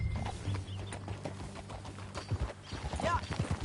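Horse hooves clip-clopping at a steady riding pace in Red Dead Redemption 2, rhythmic thuds close by under game dialogue, with a faint whinny-like cry near the end.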